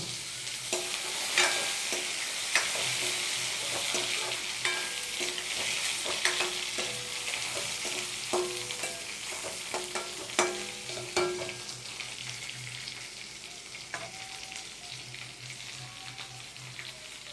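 Papaya pieces fry in a pan with a continuous sizzle while a utensil stirs and scrapes in repeated strokes, close and clear with no talking.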